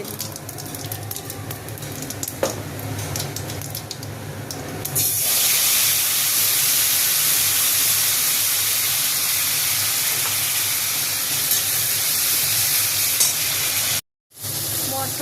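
Spice paste sizzles loudly in hot oil with cumin and bay leaf as it hits the pan, a sudden broad hiss that jumps up and stays steady and close, with a brief spoken word at the start.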